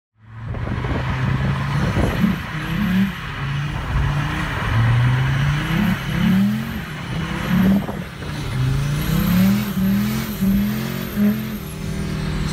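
A car with a Mercedes OM606 diesel engine runs and revs close by, a steady loud engine drone with rising and falling pitch swells, compared to an old Audi Quattro.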